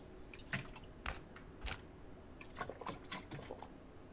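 A character drinks water in the survival game Mist Survival, with soft wet gulping and swallowing sounds repeating in an uneven rhythm, close and quiet with no talking.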